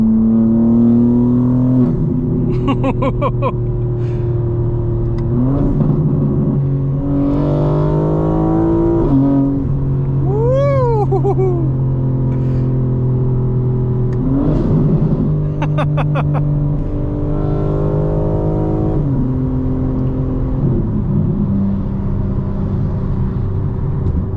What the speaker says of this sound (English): It's like a deep rumble combined with the intake and turbo noise.